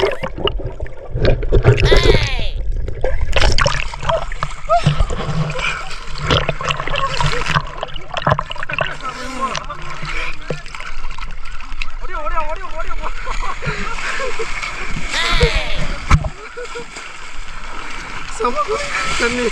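Water splashes and sloshes at a beach in Abu Dhabi as someone wades into the sea, with irregular close splashes under frequent talking.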